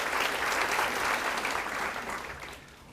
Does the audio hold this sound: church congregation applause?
yes